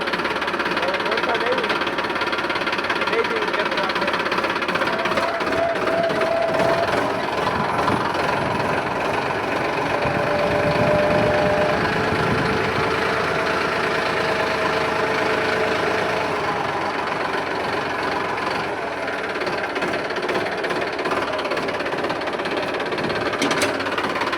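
A John Deere tractor engine idles steadily, with a loud, continuous low rumble and rhythmic knocking, close by throughout.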